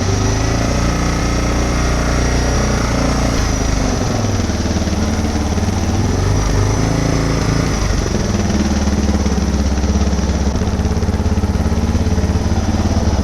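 A Suzuki DR650 motorcycle engine idles steadily and loudly up close, a continuous even thrum that holds at a constant level for the whole stretch, with no talking.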